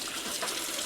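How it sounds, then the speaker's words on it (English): Fresh garden vegetables rinsed under a running kitchen tap, giving a steady, close hiss of flowing water that continues evenly without pauses. "we'll just give them a quick rinse"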